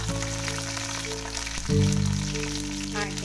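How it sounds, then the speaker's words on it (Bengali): Dried red and fresh green chillies frying in hot oil with a sizzle that jumps louder midway as more goes into the pan, a close steady crackle. "এবার খুব ভালো মতো এগুলো ভেজে নিচ্ছি ইনগ্রিডিয়েন্টসগুলো"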